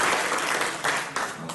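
A congregation at a church entrance ceremony for a Methodist theological seminary applauding, giving a dense, steady burst of clapping from many hands in a large hall for about a second and a half.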